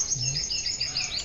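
Many high, thin chirps overlap in a busy, continuous twittering, close by, like a group of chicks peeping.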